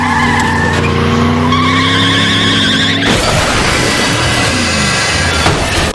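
A cartoon car in a SpongeBob SquarePants scene skids with a loud, sustained tire squeal that holds for several seconds. It then breaks into a harsh, noisy scraping rush until the end.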